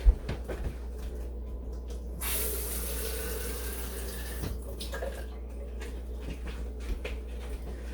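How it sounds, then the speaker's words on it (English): Tap water runs steadily into a sink while a plastic dye bottle is rinsed out, a constant close wash of water with a brief louder splash partway through and no voices. "since I have to rinse the bottle anyways, I might as well get that last little bit of color out"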